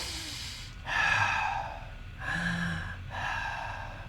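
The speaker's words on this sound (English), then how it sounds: "Breathe in, breathe out." Deep meditative breaths come in slow, audible cycles, each a long airy inhale or exhale with short quiet pauses between, close and alone.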